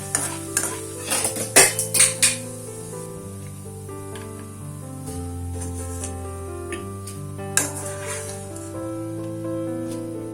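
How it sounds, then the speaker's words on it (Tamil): Roasted gram fries on a low flame in oil for a cornflakes mixture. Soft sizzling runs under clinking stirring scrapes of a spoon against the pan, with bursts of clatter early and later, and no speech. "இதெல்லாம் கொஞ்சம் சிம்ல வச்சு பொரிச்சு எடுத்துடலாம்"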